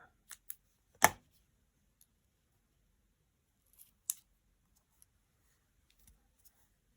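Scissors snip through card paper for a handmade Mother's Day card: one loud, close cut, then a few quieter, scattered snips with long silent gaps between them.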